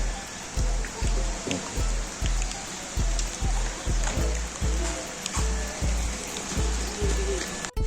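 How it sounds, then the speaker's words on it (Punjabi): Heavy rain pours down outdoors in a dense, continuous hiss, with a regular low thumping repeating roughly twice a second beneath it and no voices. "ਤੇਜ਼ ਬਾਰ ਬਹੁਤ ਮੀਂਹ ਦੀ ਸ਼ੁਰੂਆਤ ਹੋ ਗਈ"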